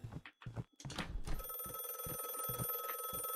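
A telephone rings in an indie horror video game, its steady electronic bell starting after a few soft thuds and footsteps and carrying on continuously, fairly quiet.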